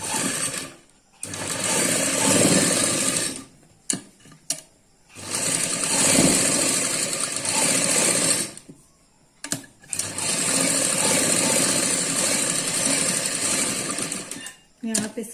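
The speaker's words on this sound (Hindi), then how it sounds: "इस तरह से हमें सीधा करने के बाद इस पर एक सिलाई लगानी है।" Sewing machine stitching a seam on a suit, running in loud, close, rapid bursts of several seconds each, broken by brief pauses.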